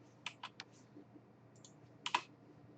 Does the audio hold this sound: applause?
no